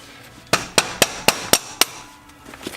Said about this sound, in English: Gonna drive the axle straight through.